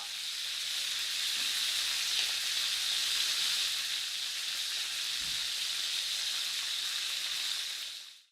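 A hot pan flambéed with Andong soju sizzles in a steady, loud, broadband hiss that holds for several seconds before cutting off abruptly.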